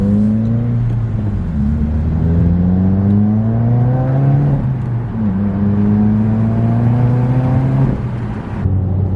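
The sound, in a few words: 2020 Subaru WRX with Tomei cat-back exhaust driving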